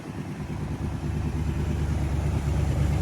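A 1975 Chevrolet Caprice convertible with a swapped-in LS3 V8 rumbles steadily at close range, a deep, loud idle with a lumpy, throaty pulse that holds for the full length without voices.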